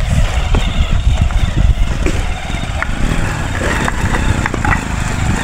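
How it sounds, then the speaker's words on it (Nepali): A motorbike engine labours loudly uphill on a rough, rocky off-road track in Myagdi near Jaljala, revving unevenly with a close, throaty rumble and occasional surges. "अब यहाँ बाइकलाई चाहिँ हामी माथि लाने प्रयास गरिरहेछौँ"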